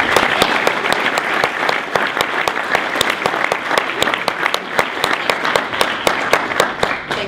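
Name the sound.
audience applause welcoming a speaker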